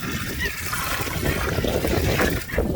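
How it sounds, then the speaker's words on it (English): Water poured into sand while building a sandcastle in England, a steady broadband splash and trickle lasting a few seconds, close and fairly loud, with no talking. "We put the water in like that."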